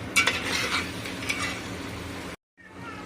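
Chicken pieces coated in ginger-garlic paste sizzle and fry in a pan for butter chicken, with steady scraping and stirring strokes over the hiss before a brief drop to silence and a return of the sizzle.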